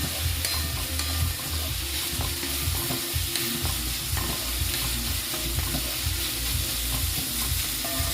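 Grated carrot salad stir-frying in a pan over a high gas flame, a steady close sizzle with scraping stirring strokes running throughout, no voices.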